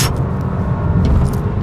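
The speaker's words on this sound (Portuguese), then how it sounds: "Fica parecendo aquela sensação de motor sem fim, sabe?" A 2026 Audi A5 sedan with a variable-geometry turbo engine pulls steadily under acceleration, a loud, continuous low engine drone and road roar close by with no talking.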